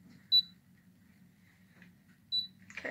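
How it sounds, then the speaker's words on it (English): Curl Secret 2.0 hair curler giving two short, clear electronic beeps about two seconds apart, close and otherwise quiet, followed by faint handling rustle. "Okay, that was our 5th beep."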